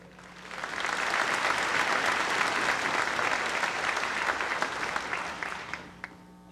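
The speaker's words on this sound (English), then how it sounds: "hand clap for the Lord" An audience at a gospel singing event in the North Georgia mountains claps for the Lord, a dense, steady wash of applause that swells in and fades near the end.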